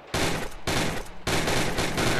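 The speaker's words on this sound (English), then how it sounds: "Let's do a few shots." Gunfire in the GunClub VR shooting game, three loud, close bursts of rapid shots separated by short pauses, the last one longest, with no talking.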